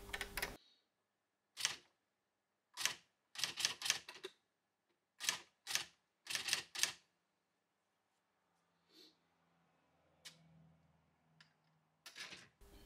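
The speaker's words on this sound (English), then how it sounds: "just ordinary typing." Keys clacking on an Olympia Standard 200i, a large A3 electronic typewriter from the mid-1980s, in ordinary typing: a loose run of sharp strikes, singly and in quick clusters, then a pause and a final burst, close and with no talk.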